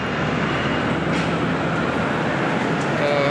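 Steady, loud, dense ambience at a railway station in Lahore, a continuous wash of crowd and rail noise with no distinct events.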